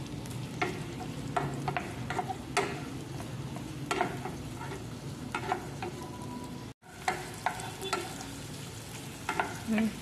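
Garlic and onion fry in a pan with a steady sizzle, broken by repeated stirring scrapes and clinks of a utensil against the pan, close and continuous with a brief dropout partway through.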